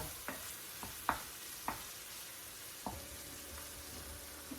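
Prawns in a pan over lowered heat give a soft, steady sizzle, with a few faint scraping stirs and light clinks of a utensil at irregular intervals, quiet and close with no talking.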